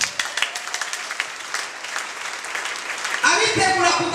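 A congregation at a prayer meeting breaks into loud, sustained applause, dense clapping from many hands filling the room, rising after a stretch of talk and shouting.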